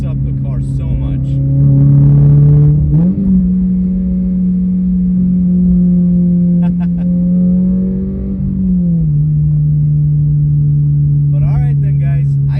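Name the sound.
Toyota GR86 engine revving with AWE catback exhaust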